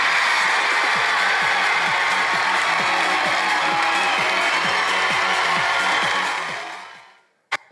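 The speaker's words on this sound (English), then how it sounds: "Please, a huge round of applause for the fabulous Michelle McManus!" A large studio audience claps and cheers for Michelle McManus, winner of Pop Idol 2003, in a dense, steady roar that fades away over the final seconds.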